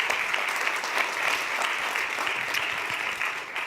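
Sustained applause from a crowd, dense steady clapping at an even level throughout, without any voices over it.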